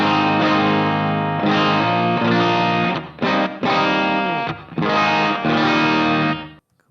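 An electric guitar through a Vintage 30 cabinet impulse response miked with a 57, playing loud distorted chords in sustained strums with a few short stops and rests, ending abruptly.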